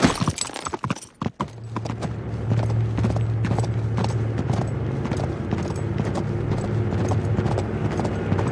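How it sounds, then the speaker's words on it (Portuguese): A rapid, continuous clatter of horse hooves galloping close by in Uncharted 3: Drake's Deception, following a few sharp bangs at the start. "Pule no cavalo, Drake! Pule no cavalo"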